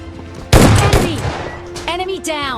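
Gunfire crackles in a battle royale video game as an enemy is attacked: a loud burst of rapid shots at the start, then a scattering of further shots and metallic game sounds.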